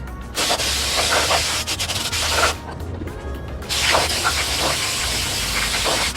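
Brake cleaner spray hisses in long, loud bursts close by onto a brake rotor, with a short pause between sprays and faint rubbing noises underneath.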